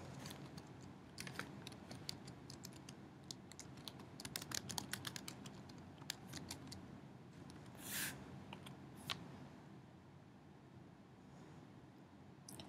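Keywords are typed on a computer keyboard while searching a library website: quiet, irregular bursts of key clicks and taps, close and faint, with no talking.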